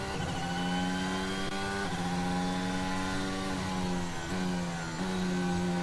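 Formula 1 cars on track during Austrian Grand Prix practice, engines droning loud and steady with several pitch shifts as cars pass and shift gears, continuous throughout.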